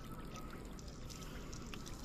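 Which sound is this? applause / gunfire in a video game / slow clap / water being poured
water being poured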